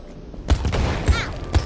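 Grenade blasts from the Worms WMD video game come as loud, punchy thumps in quick succession, three low booms within under two seconds, sitting over game noise.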